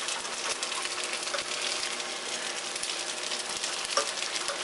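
Sweet anchovies frying in hot oil while being stirred, a steady close, dense sizzle that holds evenly throughout with faint scraping from the stirring and no talking.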